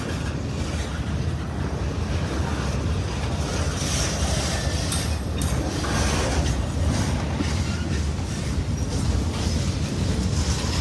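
A long freight train rumbles past close by in Indiana or western Kentucky, a loud, continuous broadband roar of wheels and cars that holds steady throughout without any voices.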